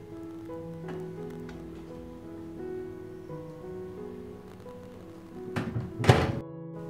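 Cake batter set inside a microwave oven, then a firm thunk of the door shutting near the end, over steady low background hum.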